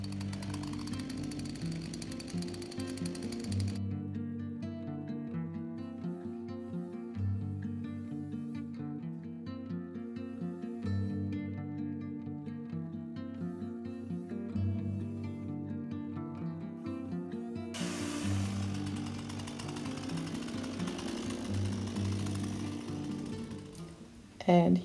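Firewood being cut during garden work, a loud continuous buzzing motor drone with a rough texture that runs throughout, with music playing over it.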